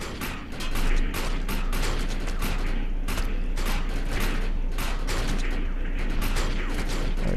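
In the Defiance shooter game, a steady run of gunshots pops out in irregular bursts, sharp and fairly loud, over a low mechanical hum.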